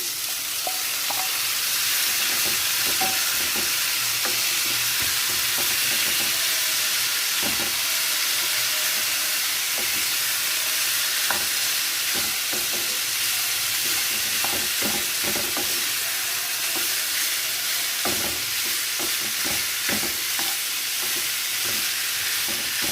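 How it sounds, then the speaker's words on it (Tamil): Boiled vegetables sautéing in a hot pan for vegetable cutlets, giving a steady sizzling hiss with frequent spoon scrapes and stirring clicks, close and continuous throughout. "கொஞ்சம் வதங்கட்டும்."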